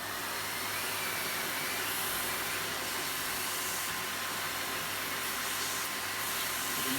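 A running Miele ART vacuum cleaner gives a steady, loud broadband airy hiss of escaping air, continuous and unbroken throughout with no talking.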